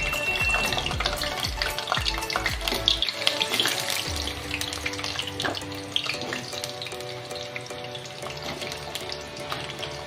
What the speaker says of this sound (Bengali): আলুগুলোকে আমি তেলের মধ্যে ছেড়ে দিলাম, গ্যাসটাকে হাই ফ্লেমে দিলাম।